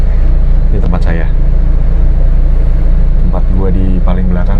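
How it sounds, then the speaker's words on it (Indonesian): A bus engine drones loudly and steadily in a low, constant rumble, heard from the rear sleeper seat directly above the engine, with a person talking over it in bits. "Tempat gua di paling belakang, sedangkan di situ udah ada mesin. Jadi suaranya ya begitulah pokoknya."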